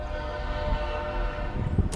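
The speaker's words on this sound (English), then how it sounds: "I hear a choo-choo train." A loud train horn sounding near a street in Miles City, Montana, held as one steady blast over low rumbling traffic noise for the whole stretch, with no talking.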